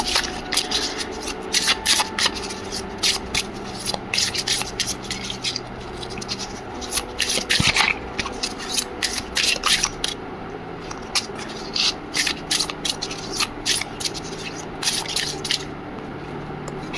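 Tarot cards are shuffled and drawn: a dense run of soft riffling, sliding and flicking card sounds, close and continuous, with no voice heard.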